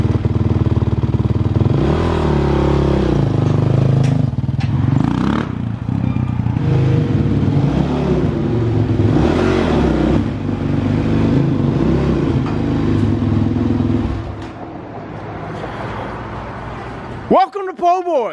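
A street-legal dirt bike engine runs steadily with a low rumble and a few revs rising and falling, under someone talking throughout. The engine sound drops away toward the end.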